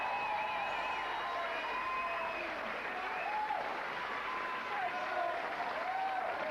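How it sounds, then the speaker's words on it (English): A TV studio audience at a 1993 light-entertainment show cheers and applauds loudly and continuously, a broad roar of clapping with a voice carrying over the top. "the crowd are going nuts."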